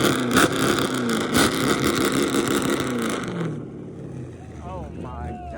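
A twin-turbo Lamborghini Gallardo with a carbon-heavy race-car build revs hard, its loud engine roar rising and swelling before easing off as faint voices come through underneath.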